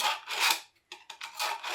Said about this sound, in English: I always sharpen my scissors first